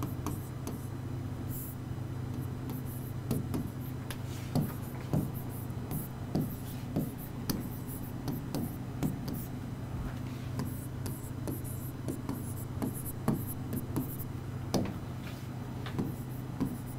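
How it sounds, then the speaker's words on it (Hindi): A teacher writes on a board during a reasoning class, producing a steady run of short, close tapping and scratching strokes with brief pauses, over a constant low electrical hum and no talking. "मैं पहले लिख दूँ फिर बताऊँगी आपको"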